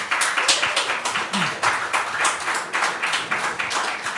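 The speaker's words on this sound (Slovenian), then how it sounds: "lahko en aplavz za njih, če želite" Rhythmic clapping from an audience at a post-screening talk at a cinema, hands beating in a fairly regular pulse at moderate volume with a brief voice underneath.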